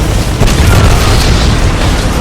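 Loud, rumbling explosions from the arcade shooter Titanfall 2 on PS4 Pro fill the whole stretch as a dense, continuous roar with one sharper blast early on.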